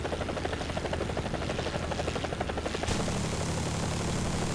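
A Bell AH-1G Cobra attack helicopter in War Thunder thumps with a steady rapid rotor chop, loud and continuous, shifting to a smoother drone near the end.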